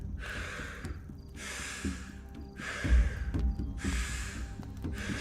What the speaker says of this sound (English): You breathe it in on the inhale.